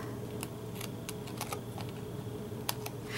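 Craft paper having its other side trimmed, a string of light, quick ticking clicks and snips close by, spaced irregularly over faint room hum, with a soft rustle at the end.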